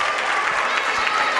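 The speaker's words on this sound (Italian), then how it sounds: "gli applausi per Casamaggi" Applause from a crowd at a youth basketball final, cheering an injured player as he limps off to the bench, a steady, even clapping that continues throughout.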